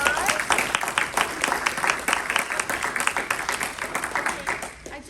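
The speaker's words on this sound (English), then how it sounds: "So let's give our actors a round of applause." An audience at a literary heritage performance during a book festival applauds the actors, giving steady, dense clapping from a crowd that fades slightly toward the end.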